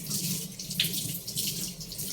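A kitchen tap runs steadily into a sink while produce is rinsed, a continuous close splashing hiss with no talk over it.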